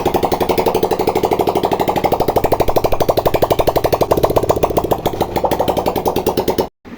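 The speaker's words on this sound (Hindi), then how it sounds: "मैं अभी आपको मोटरसाइकिल स्टार्ट करके चेक भी करवाता हूँ।" A Honda 125 motorcycle on its double stand, just fitted with a new rocker pin O-ring, runs close and loud at a fast, even idle with a steady thumping beat, then cuts off abruptly near the end.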